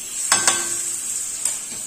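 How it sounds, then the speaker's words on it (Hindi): A spoon stirs popcorn kernels in melted butter in a pan over fairly high heat, making a few sharp scraping clicks against a soft, steady background sizzle. "इनको अब हम तब तक हिलाते रहेंगे जब तक पहला मकई का दाना पॉप ना हो जाए"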